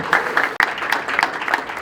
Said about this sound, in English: Please, everyone, give a round of applause for all the participants involved.